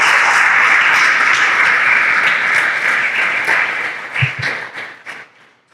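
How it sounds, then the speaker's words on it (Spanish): Church congregation clapping in praise, a dense burst of applause that holds steady and then thins out into a few scattered claps before fading away. "Dele palmas al Señor."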